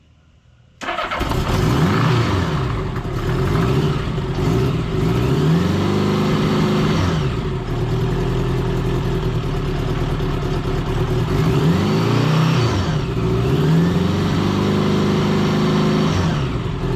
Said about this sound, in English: So I'm going to run the engine